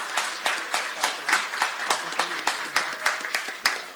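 Applause for two hockey players at an arena event: a steady patter of hand claps from a modest crowd, fairly distant and moderate in level.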